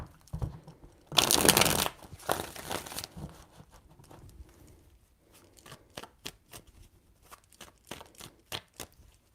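Tarot cards are shuffled by hand in crisp bursts of riffling and rustling, with a loud flurry early on and then a run of quick, separate card snaps, close up with no talk.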